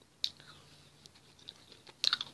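Chewing a blue raspberry candy snack, with a sharp crunchy bite at the start and another cluster of crisp, close bites near the end, separated by quieter mouth sounds.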